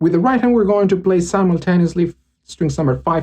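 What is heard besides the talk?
No everyday noise stands out behind the speech.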